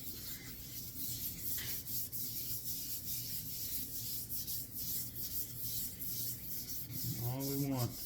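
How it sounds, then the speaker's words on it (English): Steady dry rubbing of a wooden gunstock being lightly buffed during refinishing, continuous and close, with a short tonal squeak near the end. "All we're going for is lightly buffing it."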